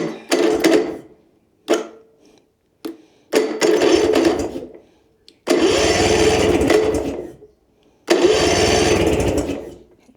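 A sailboat's inboard motor cranks and turns over in repeated bursts, several separate starter attempts of one to two seconds each with quiet gaps between, loud and close.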